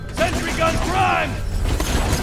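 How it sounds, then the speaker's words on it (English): A sentry gun deploys in Borderlands 2 with a burst of mechanical whirring, creaking and ratcheting, steady and close, alongside game effects and a voice line. "Sentry gun prime!"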